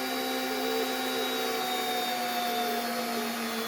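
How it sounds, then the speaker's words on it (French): A power screwdriver runs steadily, driving screws into wooden boards being assembled into a beehive feeder; a continuous close whine with no talk. "Voilà, de visser bien comme il faut les planches"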